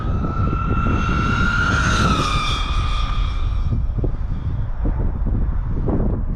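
A stock Traxxas XRT RC truck's electric motor at full throttle with speed gears, a loud close high-pitched whine that rises in pitch then falls away, over heavy wind and rumbling ground noise.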